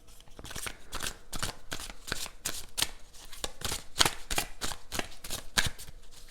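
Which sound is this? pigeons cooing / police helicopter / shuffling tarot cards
shuffling tarot cards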